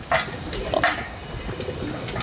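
Pigeons coo in soft repeated bursts, a couple of clear calls over a steady murmur of background sound.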